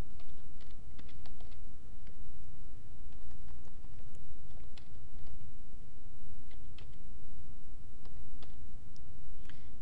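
Steady typing on a computer keyboard while entering a memo in accounting software, with continuous close key clicks and taps over a constant low background hum.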